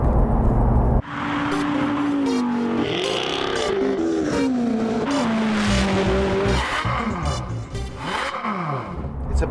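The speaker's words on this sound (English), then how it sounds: "I'm back in the 911 GT3 Touring" Porsche 911 GT3 Touring driving on a sunny UK road, engine note rising and falling through revs, loud and continuous from inside the car, with a sharp shift in tone after the first second.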